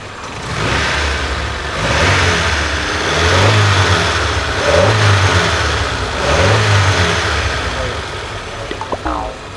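A 1992 Honda Civic Estilo's engine is revved several times in rising, swelling pulses over a steady idle, heard up close with the bonnet area open.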